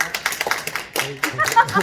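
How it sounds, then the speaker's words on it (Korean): A short burst of hand clapping from an urban sketching class on its closing day, mixed with voices and chatter throughout. "큰 박수 한번 부탁드리겠습니다"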